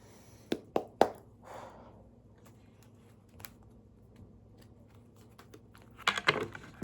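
A deck of cards is shuffled by hand, with quick papery riffles near the start and again near the end, separated by a quieter stretch with only faint light rustles.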